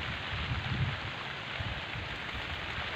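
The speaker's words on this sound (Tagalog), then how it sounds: "So hanggang ngayon ay umuulan pa rin" Rain keeps falling over farm fields after a typhoon, making a steady, dense hiss that runs without a break and with no voices.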